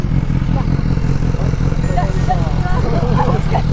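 A BMW S1000R motorcycle idles nearby on a touring stop. The engine makes a loud, constant low rumble with a fast pulse, and voices talk faintly beneath it.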